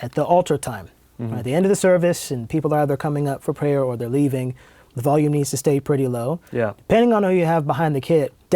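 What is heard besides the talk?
No distinct noise like a dog, phone or traffic.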